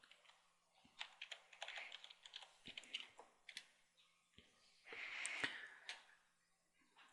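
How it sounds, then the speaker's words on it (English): Username and password keyed in on a computer keyboard, soft, close clicks in irregular short runs with a few louder key strikes and gaps between entries, no voices. "So key in your username and password you selected."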